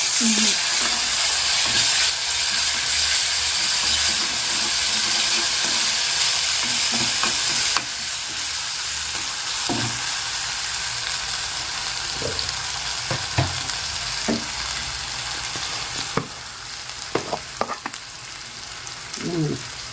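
Aloo fry potatoes sizzle loudly and steadily in a pan with ginger paste. A spoon scrapes and stirs them in irregular clanks over the whole stretch, with no voices.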